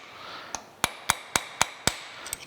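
Hammer tapping a metal transfer punch into a lathe part: six or seven sharp, evenly spaced metallic taps, close and clear over quiet shop hum.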